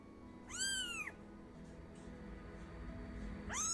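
A kitten meows twice while a woman nibbles its ear, two clear high-pitched rising-then-falling mews a few seconds apart, close and distinct over a soft room hum, with no talking.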